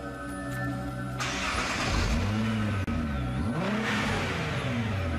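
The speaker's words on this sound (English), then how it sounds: "the engine is ferried across to the dyno room, where it started for the very first time" A Nissan GT-R engine running on a dyno, rising and falling through loud revving sweeps after starting, with steady mechanical whir underneath and no talk.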